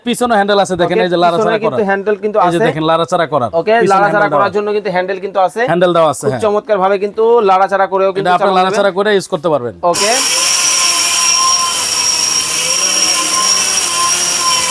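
Someone talks for several seconds before a steel-body robot blender switches on, its motor then roaring in a loud, steady, high-pitched whir that runs unbroken to the end.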